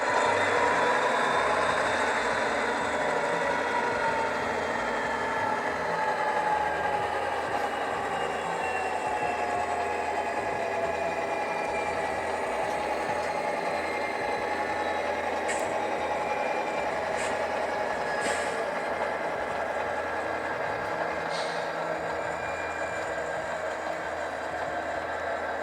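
Model train locomotive engines run on a layout beside a steel trestle, giving a steady, continuous mechanical hum and rumble with faint intermittent clicks and squeals throughout.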